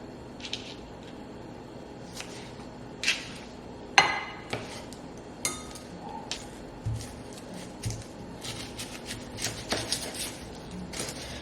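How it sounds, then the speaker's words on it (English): A knife taps sharply on a cutting board while dicing tomatoes for carne asada fries, irregular crisp chops spaced out over a quiet kitchen background. "So I like to cut my tomatoes like this."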